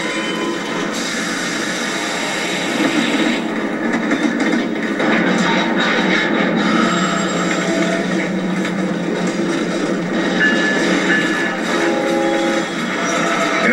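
A freight train rolls past, a steady broadband rumble with rattling wagon noise and faint clanks holding evenly loud and close throughout.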